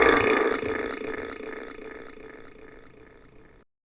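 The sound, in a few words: burp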